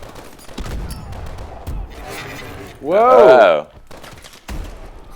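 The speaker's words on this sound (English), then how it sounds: "That's a shotgun." Bulldog shotgun fire in the video game Call of Duty: Advanced Warfare, a few sharp, heavy blasts spaced apart among game effects, while players talk and exclaim over the action.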